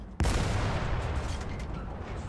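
A tank gun fires in the War Thunder video game: one loud, sudden blast that rolls into a long, heavy rumbling decay, with no talk over it.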